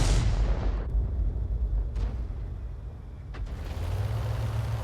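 A heavy artillery gun fires in a tank video game, a big opening boom that rolls off into a fading rumble, then a few sharper cracks farther off against a low engine hum.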